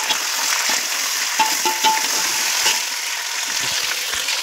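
Chicken pieces frying in a pot for Hyderabadi chicken dum biryani, a steady close sizzle with bright crackling and occasional stirring clatter, no talking.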